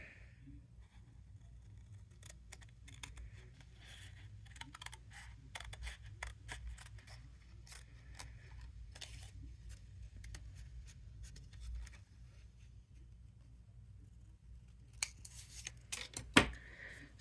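Scissors cut through craft card in a quiet room, giving faint, scattered snips and rustles that sharpen into a few crisper cuts near the end.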